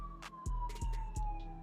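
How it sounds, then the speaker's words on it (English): Ambulance siren passing by outdoors, a steady high wailing tone that drifts slightly in pitch, heard alone with sharp low thumps and brief bursts of noise around it. "Nope, that is an ambulance."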